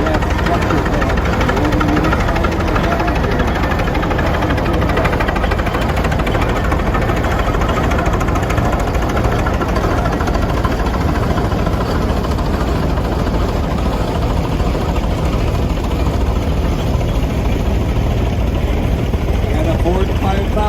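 A 1928 vintage tractor engine, model 2744, running in a parade of power at an annual show, a steady loud low chugging throb heard nearby, with people talking over it.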